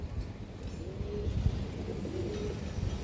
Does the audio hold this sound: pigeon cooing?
yes